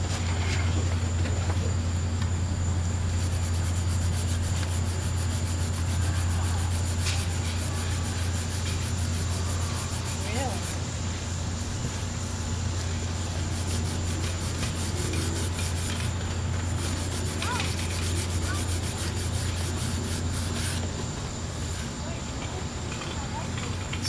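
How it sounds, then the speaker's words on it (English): A Scotch-Brite pad scrubs the brush contacts of a Kohler 10 kW generator, a soft, continuous rubbing rasp close by over a steady low hum. "I like to use Scotch-Brite on these contacts."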